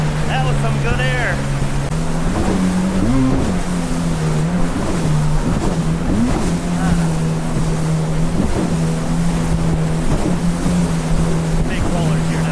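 Riding a 2024 Yamaha VX Cruiser HO personal watercraft over big ocean rollers off Sanibel Island, Florida, with a loud steady engine drone that rises and falls under wind buffeting and splashing water, while a voice talks over it.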